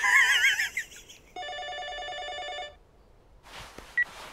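A telephone rings with a steady electronic bell tone for about a second, then goes quiet before a brief rustle of the handset being picked up; no talking.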